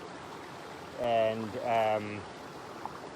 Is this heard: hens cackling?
no